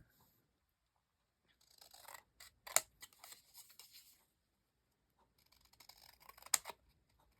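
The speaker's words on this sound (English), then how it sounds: "I'm going to have to trim this down just a bit because I left those edges on" Scissors trim the edges of a paper pocket page in two quiet bursts of crisp snipping, close by with near silence between them.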